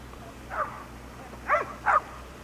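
A dog barks three times at a moderate distance: one short woof, a pause, then two quick barks.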